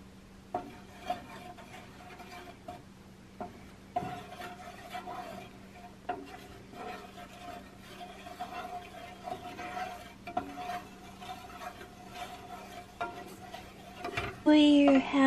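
Green coloring stirred into melted candle wax, a soft steady scraping and swishing of a utensil in a pot, faint and continuous with occasional light knocks and a louder clatter at the end.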